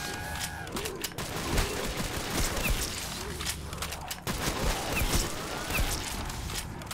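Heavy gunfire from an upgraded MSR sniper rifle in a Call of Duty zombies gun game, firing in a steady stream of sharp, loud reports with mechanical clatter throughout.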